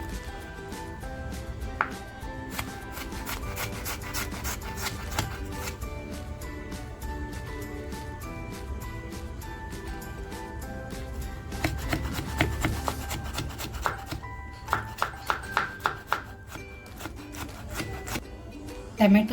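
A knife chops vegetables finely on a board for a garlicky val bean dish, with continuous close rubbing and scraping strokes and a quick burst of sharp taps near the end.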